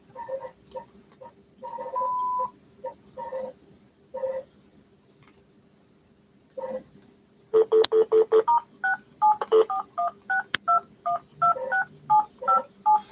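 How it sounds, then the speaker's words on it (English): Touch-tone telephone keypad dialing a 10-digit number, bursts of short paired tones at first, then after a pause a faster run of crisp evenly spaced beeps, close and clear with no talking. "We can dial 10-digit numbers."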